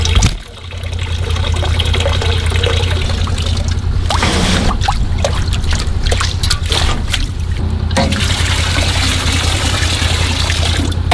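Water gushes and splashes steadily into a farm water trough, loud and close, with brief surges and gurgles and no talking.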